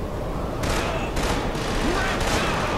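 Gunfire in the video game Killzone 2, a dense continuous barrage of shots and explosions loud throughout the short stretch, with a voice mixed in.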